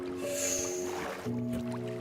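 A Minecraft player in a hardcore world drops into water, giving a brief soft squishy splash with faint dripping over steady in-game background tones.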